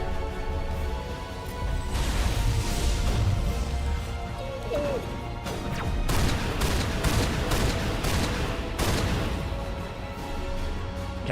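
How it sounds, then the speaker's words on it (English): Heavy explosive blasts and crashing impacts rumble through a Mass Effect battle as rockets are fired, with loud overlapping booms that keep the din dense and continuous throughout. "Is he shooting rockets at me?"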